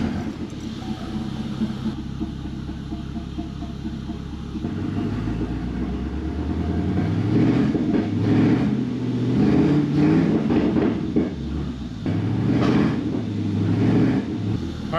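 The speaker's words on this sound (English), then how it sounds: "at least it's revving up now, but it's still not quite firing correctly" A C4 Corvette engine with a misfire idles roughly, then revs up repeatedly in rising and falling surges, loud and close, with uneven sputtering between revs.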